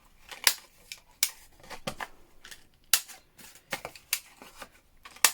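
Corners of a handmade paper greeting card being trimmed, a series of sharp snipping clicks spaced irregularly, close and crisp, with no voices.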